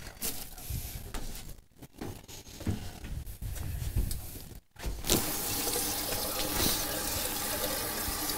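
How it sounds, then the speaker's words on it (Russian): Tap water running into a pot as it is rinsed at a sink, splashing and sloshing unevenly at first, then settling into a steady loud gush of flowing water near the microphone. "Помыл горшок водой. Водой из-под крана"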